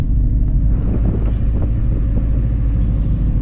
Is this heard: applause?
no